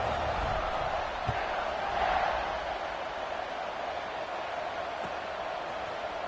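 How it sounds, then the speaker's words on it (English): A stadium crowd in a football video game keeps up a steady, dense buzz of many voices throughout, with a slight swell near the middle and no distinct single sounds. "this crowd is buzzing after that last score"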